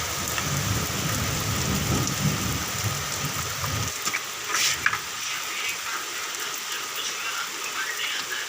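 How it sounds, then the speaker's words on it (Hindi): Heavy rain pours steadily on surfaces in a Pakistani village during the rainy season, a dense continuous hiss with low rumbling early on that drops away, plus a few sharper drips and knocks. "बारिशें बहुत तेज़ हो रही हैं"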